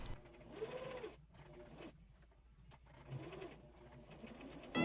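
Sewing machine stitching a pressed garment hem, a low steady whir running with a short pause partway, close and moderately quiet with faint background sounds.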